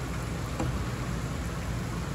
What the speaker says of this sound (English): Well, it is raining pretty good.